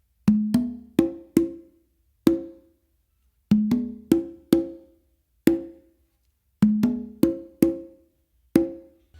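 Congas playing a funk melody tumbao with accented open tones, close and clear, in repeating phrases of quick slaps and ringing open strokes separated by short pauses, alone without talk.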